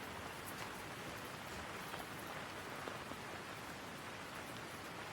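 Steady rain falls in a Sydney yard where Silkie chickens stand drenched near the eaves, a soft even hiss that holds at the same low level throughout with no voices.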